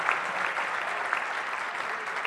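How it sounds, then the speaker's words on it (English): Applause at an awards evening for honorees: a moderate, steady round of clapping from a room of people, even and continuous for a couple of seconds. "Round of applause. Well done."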